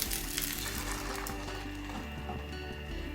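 Oil sizzles and crackles steadily in a pan as egg-dipped semolina patties with cheese filling fry, close and continuous, with faint kitchen clinks and no voices.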